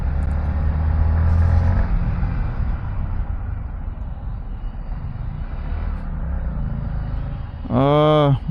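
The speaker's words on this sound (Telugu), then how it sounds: "bloody traffic" Steady road traffic rumbles near the Fatehnagar flyover, a dense, continuous drone of passing vehicles, with a short, loud horn blast near the end.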